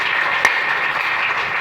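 A church congregation applauds the Lord, a steady wash of many hands clapping together, fairly loud and sustained throughout with one sharper clap standing out near the start.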